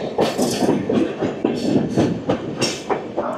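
Sealdah-Bikaner Duronto Express running by the Barakar river near Barakar station, loud rhythmic clickety-clack of wheels over rail joints repeating every half second or so above a continuous rumble of the carriages.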